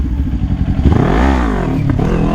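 A Kawasaki Ninja 400 revs sharply on a street during wheelie practice, a close, loud engine note climbing and dropping in one quick surge, with some rattly clatter.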